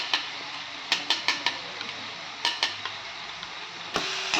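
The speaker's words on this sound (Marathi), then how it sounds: "त्याच्यामध्ये हे मिश्रण आपल्याला मिक्स करून घ्यायचं आहे" A spoon stirs a masala pav bhaji mixture of onion, chilli, capsicum, tomato and spices in a pan, giving sharp scrapes and clinks at irregular intervals over a steady low hum.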